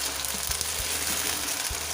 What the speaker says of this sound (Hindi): अच्छे से इसको फ्राई करेंगे